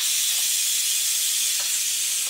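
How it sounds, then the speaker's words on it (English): A loud, steady hiss of steam releasing from a pressure cooker after cooking smoked turkey broth, continuous and close with no talking. "I'm gonna release the steam."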